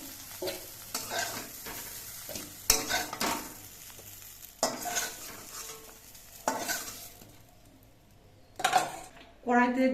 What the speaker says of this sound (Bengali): বেগুনের পিসগুলো বেশ ভালো মতো ভাজা হয়ে গেছে এবার এগুলো আমি নামিয়ে নিচ্ছে